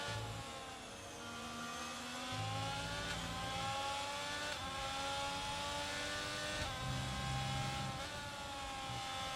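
F1 race cars on their out laps in a video game at the Belgian GP, high engine whine rising and falling through gear changes, with a nearer car revving and other cars passing, steady and without talking.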